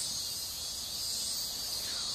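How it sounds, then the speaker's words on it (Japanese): Cicadas chirp in a dense, continuous high-pitched drone, steady and unbroken throughout, with no other sounds. "セミも神様に感謝しています。"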